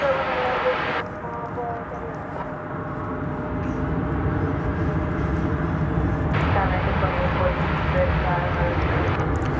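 An American Airlines jet at DFW Airport gives a strong, continuous engine roar that holds steady and swells slightly, heard alongside radio-style talk.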